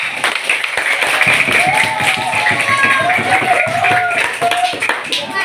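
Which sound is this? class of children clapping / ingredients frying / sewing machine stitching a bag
class of children clapping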